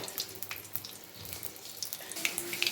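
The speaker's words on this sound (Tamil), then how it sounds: "கடுகு பொரிஞ்சிச்சு." Mustard seeds and urad dal crackle and splutter in a generous amount of hot oil in a pan while tamarind rice is cooked, a steady close hiss broken by rapid sharp pops and spits with no talking.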